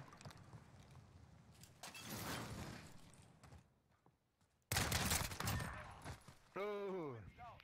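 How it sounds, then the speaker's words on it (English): Shotgun blasts in a first-person shooter, a few loud bursts with crackling tails separated by quieter gaps, followed by a sweeping mechanical whine, with voices talking in between. "Oh my god, that shotgun is deadly."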